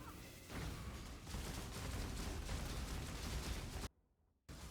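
A brain explosion attack in the Path of Exile video game erupts as a loud, dense burst of blasts and crackling impacts that carries on for several seconds, then drops out briefly before resuming.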